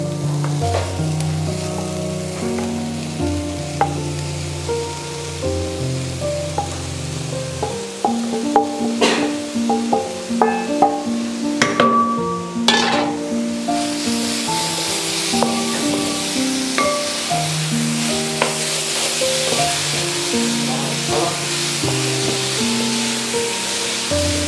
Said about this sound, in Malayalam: ഇതിലേക്ക് ഇനി ചേന വേവിച്ചത് ഇട്ട് കൊടുക്കാം.